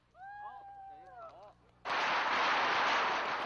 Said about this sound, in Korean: 중국에는 좋은 날에 폭죽이 빠지는 법이 없다.